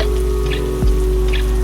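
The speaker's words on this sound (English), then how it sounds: "Only the sound of rain and soft music playing on the radio." Steady rain falling with scattered droplet patter over a low steady hum, continuous and fairly loud for its short length.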